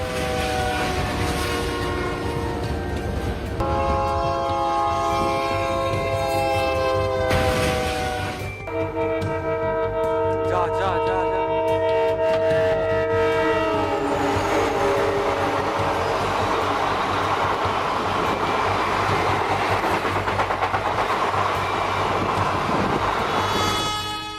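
A train sounds its horn in long repeated blasts as it passes close by, with steady loud rail rumble and wheel noise throughout, at a Texas crossing where a truck was stuck on the tracks.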